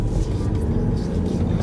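Diesel engine drone inside a 2014 BMW 218d Active Tourer while driving, a steady low rumble with road noise filling the cabin, continuous and fairly loud.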